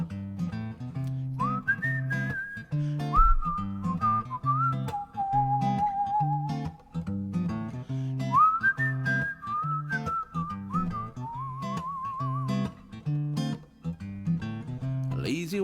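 Someone whistles a cheerful tune solo during a live music session, clear and close, two melodic phrases over a steady strummed backing, with no talking.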